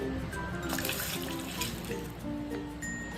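Water pours and splashes into a pan of stuffed onion curry cooking on the stove, a steady close running trickle heard alone.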